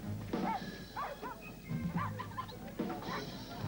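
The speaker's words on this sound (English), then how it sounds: "Dogs." Dogs barking in a Bud Light beer commercial, a few short bow-wow barks and yips in quick succession at close range, with background noise throughout.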